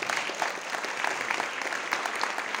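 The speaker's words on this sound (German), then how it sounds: "Applaus" An audience at a lecture on geopolitics claps steadily, a dense, even patter of many hands at moderate level with no talking over it.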